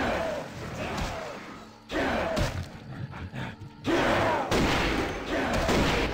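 Gunshots in the game Vampire: The Masquerade – Bloodlines come as a few sharp bursts and impacts mixed with game sounds and groans.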